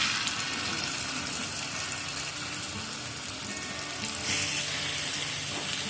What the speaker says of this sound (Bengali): এবার একটা করে চাল কুমড়োর পিস আমি এতে ভাজতে দেবো।